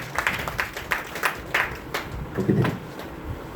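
An audience applauding in a hall to welcome a speaker, heard as a run of distinct claps fairly close by, building into a fuller burst toward the end.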